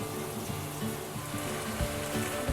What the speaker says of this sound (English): The chicken's been frying for some time.